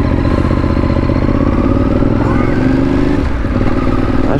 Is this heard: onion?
no